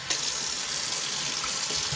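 Water runs steadily from a sink faucet onto a rag being soaked, a continuous close hiss and splash that holds for the whole stretch.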